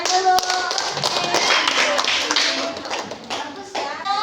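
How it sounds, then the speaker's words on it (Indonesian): A classroom of students claps hands after a group presentation, a close burst of sharp, scattered claps with a few distinct slaps, while voices talk throughout. "tepuk tangan dulu"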